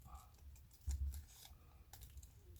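Scissors snip quietly through baking paper with a short, sharper cut in the middle, a faint close-up crisp rustle in a quiet room.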